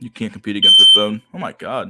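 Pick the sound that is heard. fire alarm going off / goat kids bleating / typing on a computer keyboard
fire alarm going off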